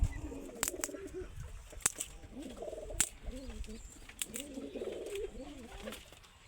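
Pigeons in a pigeon loft give repeated soft, throaty coos close by, with a few sharp knocks and faint chirps scattered between them.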